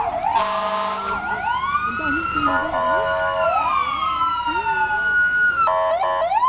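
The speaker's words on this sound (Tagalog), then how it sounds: "Fire truck." A fire truck siren at Carlyle's Dickens Festival 2021 wails loud and close, sweeping up and down in continuous rising and falling tones with a brief burst of harsher pulsing yelps near the end.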